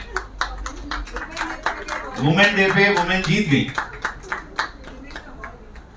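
Audience at an International Women's Day awards ceremony claps in sharp, fairly regular beats, with a voice speaking over the clapping through the middle stretch.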